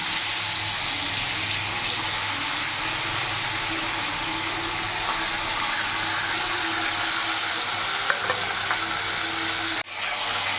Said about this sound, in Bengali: তেল গরম হয়ে গেছে, এবার আমি এক এক করে মাছগুলো দিয়ে দেবো।